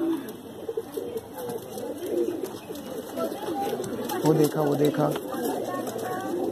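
Mangalagiri pigeons coo softly nearby in low, rolling calls, heard beneath someone talking throughout.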